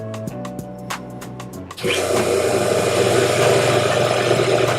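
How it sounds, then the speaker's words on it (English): An old shop polisher starts up after a stretch of quieter humming and clicks, then runs loud and steady with a harsh, close motor whine and rattle for the remaining few seconds. "I'll show you the power or the sound on the old polisher"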